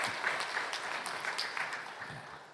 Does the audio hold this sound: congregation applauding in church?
yes